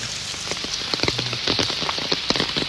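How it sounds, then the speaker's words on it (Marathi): Rain falls steadily on nearby surfaces, a dense patter of drops with scattered sharper taps throughout and no voices. "पाऊस सुरू झालो"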